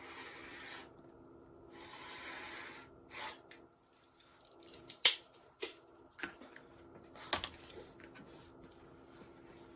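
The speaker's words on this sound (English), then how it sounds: "I line up the edge of my ruler with the fabric edge and cut" Rotary or blade cutting of quilt backing fabric along a ruler for a baby quilt, a few short scraping rasps and snips near the mic amid quiet room noise.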